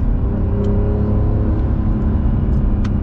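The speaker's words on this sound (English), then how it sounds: "so I can engine brake a little bit more" An Acura NSX supercar engine braking in manual mode on a canyon road, its engine a steady loud drone and rumble with a few faint high ticks, heard from inside the cabin with no talking.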